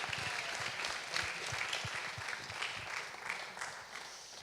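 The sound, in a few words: audience applause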